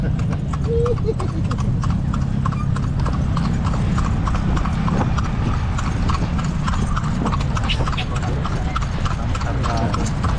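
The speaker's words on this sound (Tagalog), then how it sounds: "Subukan mo muna yung kalesa." A horse pulling a loaded kalesa carriage in Manila, hooves clip-clopping in a steady rhythmic beat on pavement, close and continuous, with people talking over it.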